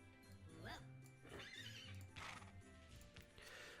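A horse in the video game Swag and Sorcery neighs twice in quick bursts, heard faintly under a person talking and light game music.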